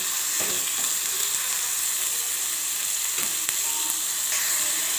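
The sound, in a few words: onions frying in hot oil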